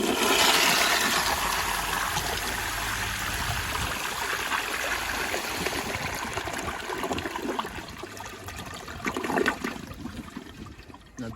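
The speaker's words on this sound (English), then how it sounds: "So here's the first flush" A 1981 Eljer Emblem toilet on a flushometer valve flushes with a loud rushing surge of water that settles into a swirling, gurgling drain and a trickling refill, close up and without speech.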